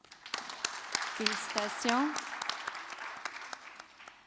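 Sharp, scattered handclaps from an audience at a school spelling bee in Vanier, Canada, applauding the student spellers, with someone speaking over the start of the clapping.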